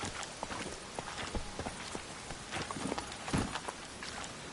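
Horse hooves in The Witcher 3, a quick run of clip-clop steps across the whole stretch over a steady background bed, fairly close and moderately loud, with no speech.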